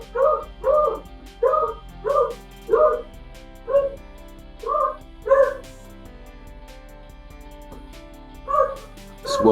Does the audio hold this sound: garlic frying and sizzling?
no